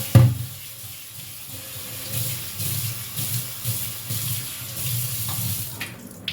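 Tap water runs over a kitchen chimney filter plate as it is rinsed clean, a close, steady splashing gush with uneven surges for several seconds and no talk.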